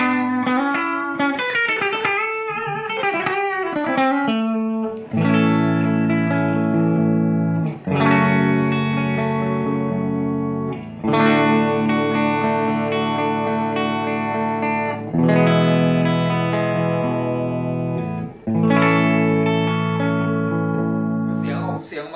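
A Baracuda hotrod Telecaster electric guitar plays through its rear humbucker with a clean tone: picked notes open, then a series of ringing chords, each held for a few seconds before the next.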